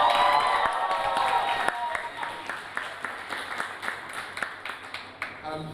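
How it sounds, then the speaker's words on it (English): Audience clapping at a student union election results night after a candidate is elected, starting as a dense burst of applause and thinning into scattered, steady claps. "Can we have another round of applause, please?"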